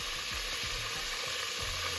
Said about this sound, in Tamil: அது நல்லா ப்ரௌன் ஆகிற வரைக்கும் நல்லா நம்ம வதக்கிக்கணும்.